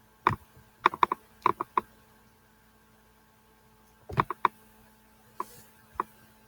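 Bursts of quick key clicks on a computer keyboard come in short clusters with pauses between them, close and clear over a faint electrical hum, and no talk.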